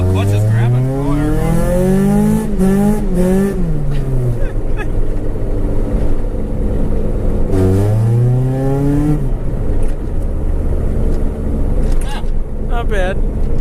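A Honda CRX in second gear revving hard at full throttle, engine pitch climbing steeply through a rising sweep, dropping, then climbing again, loud and close from inside the car with some talk over it.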